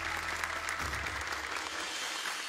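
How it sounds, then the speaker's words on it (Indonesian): An Indonesian audience at a ceremony for young Quran memorizers claps for Bapak TGB, a soft, steady wash of many hands heard from a distance, with a low rumble at first that fades. "Boleh tepuk tangan untuk Bapak TGB."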